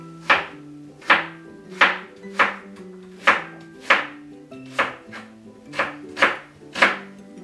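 Knife chopping through an onion on a cutting board, about eleven crisp, evenly spaced cuts with a woody knock on each stroke, close and clear, no talking.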